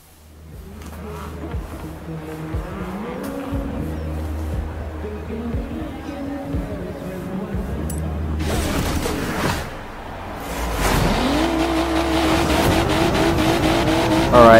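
Race cars in the Forza Horizon 3 racing game at the start of a single exhibition race, engines droning and then swelling into loud revving acceleration, with a voice talking over the game sound.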